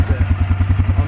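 A quad bike engine labours uphill on a rattlesnake-hunting trip in Pennsylvania, a loud, close low throbbing with rapid regular pulses across a short burst.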